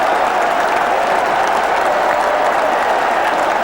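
Cricket crowd at Southampton erupts in loud, sustained cheering and applause after a bowler's hat-trick, a dense roar of clapping and shouting holding steady throughout.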